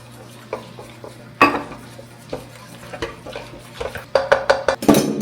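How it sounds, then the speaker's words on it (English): Gluten-free sourdough starter and water are stirred together in a bowl, with a utensil scraping and clinking against the sides in irregular knocks that grow busier and louder toward the end. "I'm gonna mix this all together."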